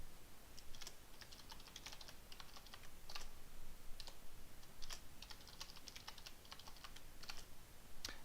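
Computer keyboard keys typed in quick irregular bursts while entering a password during Windows Server 2012 Active Directory setup, soft close clicks over a low steady hum, no voices.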